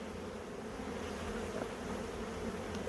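Honey bees buzzing at a beehive, a steady low droning hum from many insects close by, continuous and unbroken with no voices.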